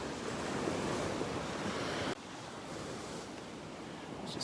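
Ocean waves washing onto a beach on a morning in North Naples, Florida, a steady broad roar of surf with wind buffeting the microphone, shifting slightly halfway through, no voices.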